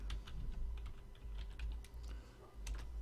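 Quiet typing on a computer keyboard, a steady run of light clicking keystrokes close to the microphone over a low background hum, with no talking.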